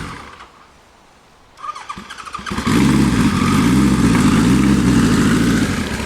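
A motorcycle engine with its exhaust baffles fitted starts after a quiet lead-in, then runs loud and steady at close range, a deep throbbing exhaust note with a few revs.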